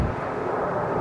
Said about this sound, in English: Really low plane.